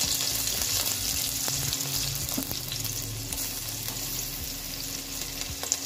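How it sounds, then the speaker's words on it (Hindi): Chopped onions fry in a small amount of oil, giving a close, continuous, even sizzle with a few faint clinks and no voices. "हम इसे अच्छे से करेंगे फ्राई। लोग इस तरह डाल रहे हैं ऑनियन"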